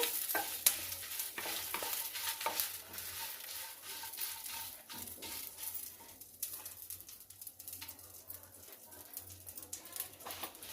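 Curry leaves and dried red chillies fry in a pan, making a soft, continuous crackle and sizzle broken by scattered spatters and occasional stirring scrapes.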